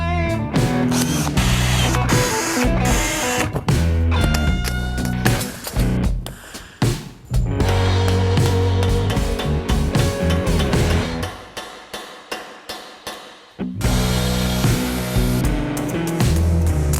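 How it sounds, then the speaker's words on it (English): Steel pieces of a medieval sabaton being riveted, with dense metallic hammering and clanking, some ringing strikes and brief pauses, loud and close throughout. "rivet these together so that we at least have one finished component to build off of for the rest of it. So let's get riveting."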